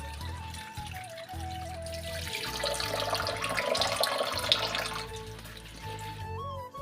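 Vegetables, including carrots and cucumber, rinsed under a running tap in a sink, a steady splashing water flow rising and falling, with soft music playing in the background.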